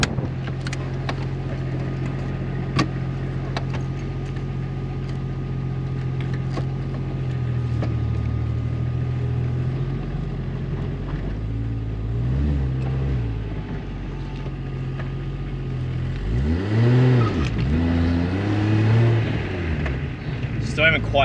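A Nissan Laurel C33 with a fully forged RB25 Neo engine and a large turbo, making close to 700 hp on high boost, drones steadily and then revs and accelerates loudly near the end, with faint voices inside the car.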